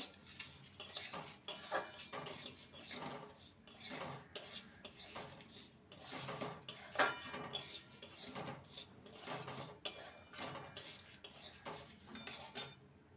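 Semolina halwa with sugar stirred in a pan, a spoon scraping and clinking against the metal in quick repeated strokes, close and fairly quiet, with no talking.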